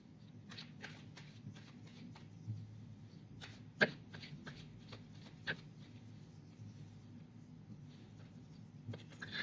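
Tarot cards are shuffled and drawn from a deck, with a steady papery riffle and soft slides running throughout, punctuated by a few sharper card snaps and taps, close and fairly quiet with no talking.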